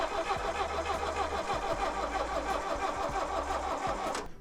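A carbureted engine fires up and runs with a steady, loud rumble and a rhythmic mid-range clatter that holds throughout, with no one speaking.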